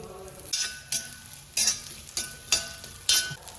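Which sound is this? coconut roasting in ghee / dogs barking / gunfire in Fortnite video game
coconut roasting in ghee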